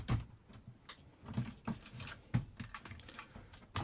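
A BBC Micro Model B keyboard being refitted and lined up in the case, giving a run of light plastic clicks, taps and knocks at close range with no one talking.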